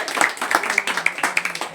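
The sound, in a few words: group clapping hands in training class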